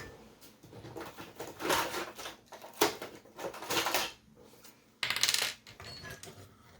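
Plastic nubs being cut off a PowerA Nintendo Switch controller shell with clippers, giving several sharp close snips and clicks, the loudest at the end, with handling noise between them and no talk.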